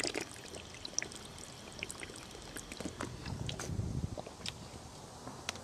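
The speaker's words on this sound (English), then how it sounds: "I'm taking a drink from the faucet at Bird Junior High School." Drinking-fountain faucet at a junior high school runs with a faint, steady trickle of water for several seconds. No voices are heard over it.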